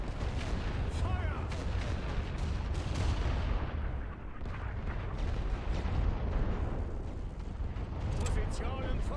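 Creeping artillery barrage in the First World War game The Great War: a continuous rumble of heavy guns firing and shells bursting, dense and sustained throughout with no quiet gaps, a few voices briefly heard over the din.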